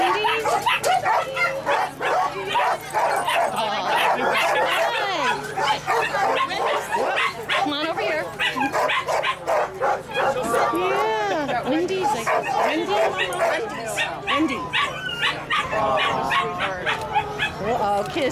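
A Labrador rescue dog whimpers and yips among busy, continuous chatter and talk from people nearby at a rescue transport stop in Rocky Hill, Connecticut, the dog sounds rising through the crowd noise.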